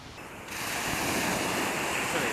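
Ocean surf at a natural beach on the Breton coast in Plougastel-Daoulas swells into a loud, steady wash of breaking waves with wind buffeting the microphone, no voices heard.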